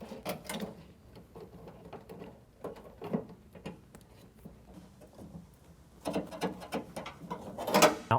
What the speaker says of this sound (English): reach in with a wrench and tighten it up with an 8mm wrench